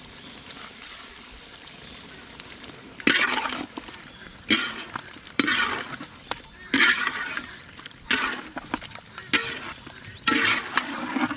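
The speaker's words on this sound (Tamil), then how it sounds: "சிக்கனை இதோடு சேர்ந்து நல்லா வேக வைக்கணும் அப்படியே லைட்டாக அப்படியே வதக்கிட்டே இருக்கும்" Chicken sautés and gets stirred in a pan with a ginger-garlic tempering, giving a soft sizzle under repeated scraping, clinking stirs in irregular bursts, close and fairly loud.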